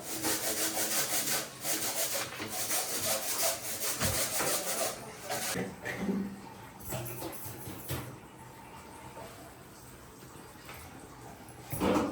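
Repeated rubbing and scrubbing strokes of a cloth wiping a floor, loud and close at first, then quieter and more sparse.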